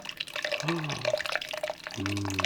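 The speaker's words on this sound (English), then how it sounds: "I'll let you watch it pour." Coffee pours slowly into a cup with a soft, continuous trickle and light dripping, fairly quiet and mixed with faint background hum and brief tonal sounds.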